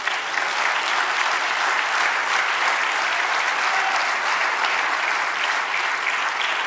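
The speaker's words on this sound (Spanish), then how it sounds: "Den un aplauso al Señor." Sustained applause from a church congregation during a Spanish-language service, a loud, steady wash of clapping that carries on unbroken with no voices above it.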